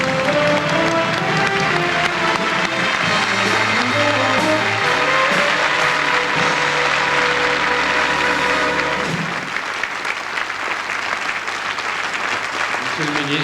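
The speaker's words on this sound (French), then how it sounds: "On va applaudir le président Alexandre Mnouchkine." A large audience at the 1989 César awards ceremony applauds for a sustained stretch with dense clapping under music, then the applause thins and fades toward the end.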